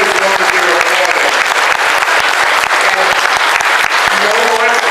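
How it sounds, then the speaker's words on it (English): Loud, sustained applause from a seminar audience, dense rapid clapping filling the room throughout, with some voices mixed into the crowd noise. "I'm going to teach you about applause."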